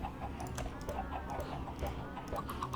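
Chickens in the Minecraft video game, repeated short clucks and soft bawks in an irregular stream, fairly steady and unaccompanied by talk.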